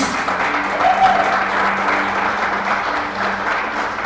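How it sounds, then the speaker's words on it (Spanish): A church congregation gives sustained applause during a sermon: a continuous wash of many hands clapping at an even level for the full length, with no speech over it. "Den ese aplauso a Jesús."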